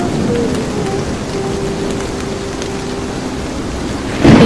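Storm rain pours steadily in a cartoon, a loud dense hiss with a low rumble of thunder beneath it and a brief louder burst at the end. No talking.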